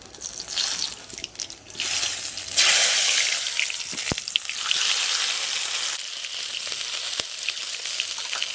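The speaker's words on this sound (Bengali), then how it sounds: "এই তেলের মধ্যে কালো জিরে আর শুকনো লঙ্কা ফোড়ন দিয়ে দিচ্ছি।" Black cumin seeds and dried red chillies hit hot oil in a pan after frying fish, giving a loud, steady crackling sizzle close by, with a few sharp pops.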